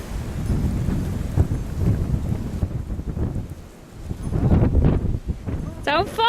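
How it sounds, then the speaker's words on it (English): Strong wind roars after a post-Christmas blizzard, a loud, steady, buffeting rumble on an open, snowy outdoor microphone that swells and eases in gusts, with a voice speaking briefly near the end. "It's so windy."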